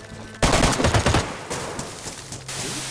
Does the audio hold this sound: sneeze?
no